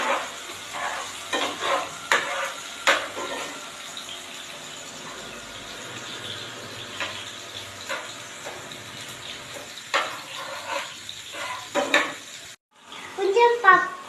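Onion fries in hot oil in a home kitchen, a low steady sizzle with scattered stirring scrapes and clinks, then a brief silence before a louder burst of clatter at the end.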